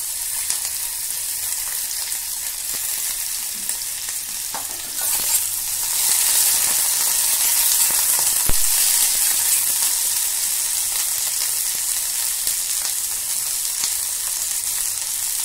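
Cauliflower pieces fry in hot mustard oil with potatoes, a loud, continuous crackling sizzle that flares and thickens midway as the florets hit the pan, with no talking.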